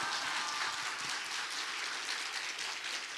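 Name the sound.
church congregation applause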